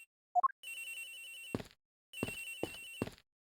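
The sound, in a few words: cell phone ringing in a video game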